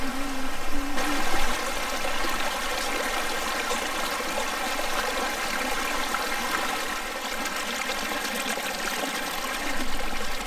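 Steady running water from a stream trickles and splashes close by, a continuous broadband wash with a brief bump near the start; no voices.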